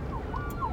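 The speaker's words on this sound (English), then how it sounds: "Sorry for the ambulance here." An ambulance siren wails briefly in the background, rising tones drifting past at moderate distance with no speech over it.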